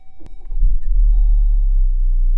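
A new Jeep Compass engine cranks and fires up, a short starter whir followed by a loud, close, steady low idle rumble, with faint electronic chimes from the cabin.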